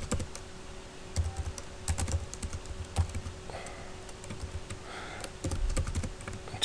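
Steady clatter of computer keys being typed, with bursts of rapid keystrokes and brief pauses, fairly close and without any talking.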